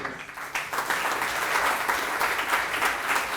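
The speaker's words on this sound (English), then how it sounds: "So please, can you applaud our two fantastic speakers?" An audience claps steadily for two speakers after a science talk on re-engineering the human body, a dense, even burst of applause filling the room without talk.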